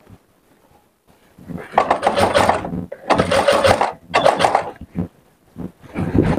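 Sewing machine stitching a shirt collar, running in three short bursts of whirring mechanical noise separated by brief pauses, with a few quieter clicks and handling sounds between them.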